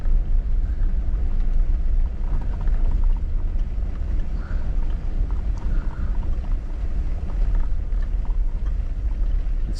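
A Jeep grinds slowly off-road over rocky ground at Tionesta Scenic Area, giving a continuous low rumble with uneven bumps and creaks throughout and no voices.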